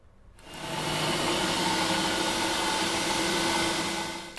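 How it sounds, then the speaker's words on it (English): A food processor whirs up and runs at a steady, loud high-pitched drone while blending ingredients, holding constant for several seconds with no talk. "Okay, so it's all in my food processor. I'm going to stick it on, whiz it up for about"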